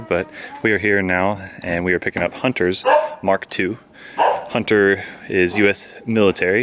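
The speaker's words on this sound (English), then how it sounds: "barking dog, he's not used to us around here" Someone talks continuously while a dog barks intermittently in the background, short sharp yaps breaking through between his phrases.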